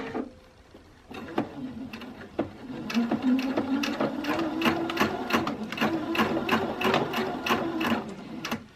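Close, rhythmic whir of a sewing machine running a long basting stitch in black thread on a refashioned men's polo, steady motor hum with sharp regular needle ticks.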